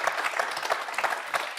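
Applause from the studio audience of a French TV quiz show, a short burst of dense, lively clapping that runs steadily throughout at moderate loudness with no talk over it.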